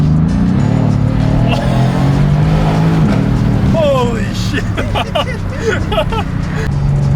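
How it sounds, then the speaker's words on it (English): Exhaust of a V6 Toyota MR2 fitted with a ported manifold and new injectors, loud and close with a steady engine roar, then pops and crackles from about four seconds in while a man exclaims over it. "Dude, exhaust sounds insane. Yeah, it pops like mad."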